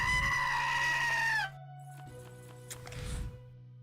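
Goats bleating in the video game Bloobs Adventure Idle: a loud, wavering animal cry that holds for about a second and a half, then gives way to quieter game sounds.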